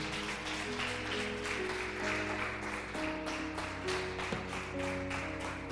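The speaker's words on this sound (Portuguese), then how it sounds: "Você pode aplaudir você mesmo?" A church congregation applauds during a sermon. The faint, rapid clapping is spread across the room over sustained keyboard chords that play steadily underneath.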